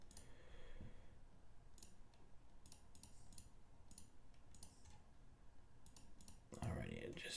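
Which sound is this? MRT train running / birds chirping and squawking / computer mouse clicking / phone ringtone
computer mouse clicking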